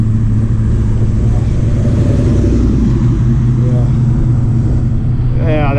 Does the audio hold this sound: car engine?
yes